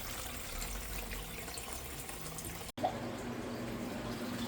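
Banana-infused rum being pumped into a jar, a steady faint liquid trickle and fill sound running throughout with a brief break partway through.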